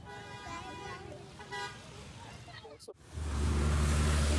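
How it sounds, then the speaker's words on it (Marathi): A dumper truck rumbles past on a road near Khadakwasla Dam outside Pune, its heavy engine noise swelling loud and close in the final seconds after a passing horn toot and some background talk. "dumper truck"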